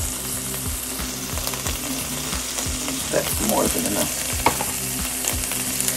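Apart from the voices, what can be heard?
food frying in a pan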